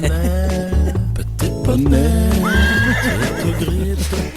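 A pony sound effect plays: a loud horse whinny rises and falls over rhythmic clip-clop hooves, close and prominent, with no speech over it.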